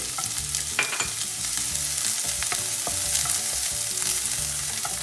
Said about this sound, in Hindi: इसमें ये सारे वेजिटेबल्स को डाल के हम सॉटे करेंगे। ये मैंने इसमें ये कटे हुए ऑनियन को डाल दिया सबसे पहले